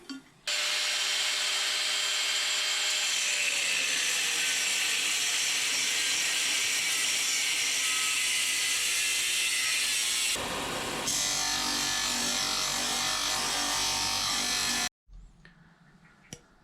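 Power saw cutting an intercooler pipe from a universal kit for a turbo Toyota Starlet 4E-FE build, a long loud whining grind, a brief pause and shift in tone, then a second cut stopping abruptly.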